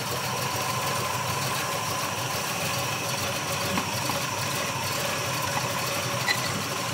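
A 1975 Chevrolet Caprice's small-block 406 V8 with a Quick Fuel carburetor idles with the air cleaner off, a steady, even rumble with slight lope held throughout.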